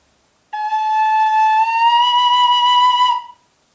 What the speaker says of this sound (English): you can do the slide by pulling your finger away from the hole or pushing your finger up and past the hole like this